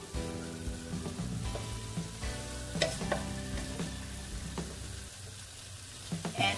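Small pieces of meat sizzle in a hot pan for fried rice noodles, with steady frying crackle and occasional scraping stirs, close and alone.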